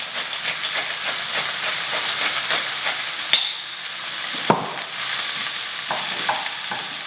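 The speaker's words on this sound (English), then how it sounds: "Now we'll seal those make sure all the vegetables get a nice coating of oil." Vegetables frying in olive oil seasoned with salt and milled black pepper, a constant bright sizzle with rhythmic stirring scrapes and a couple of sharp utensil clacks against the pan, no voices.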